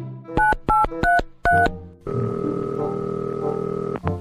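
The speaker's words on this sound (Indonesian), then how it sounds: "Ya udah aku telepon temen aku dulu ya" Someone dials a telephone call: a run of distinct keypad beeps in uneven rhythm gives way to a steady ringback tone that cuts off near the end.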